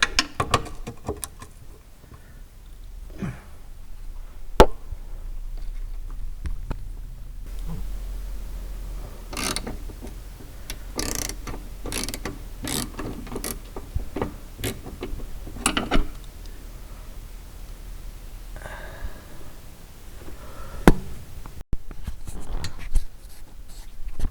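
Metallic ratcheting and clicking from a 13mm wrench loosening transmission mount bolts on a Mercedes-Benz SLK 230, with irregular bursts of rapid ticks, scrapes and clinks up close, separated by brief pauses.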